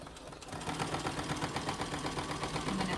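A sewing machine runs a steady straight seam along an apron pocket, with a fast, even mechanical chatter of stitching that carries at moderate loudness for a few seconds and no talking.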